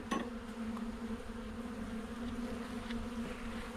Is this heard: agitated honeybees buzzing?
yes